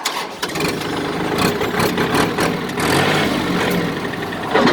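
A 2019 Kubota 40 hp tractor engine starts and runs close by, a loud steady diesel clatter with a few revving swells, heard alone without speech.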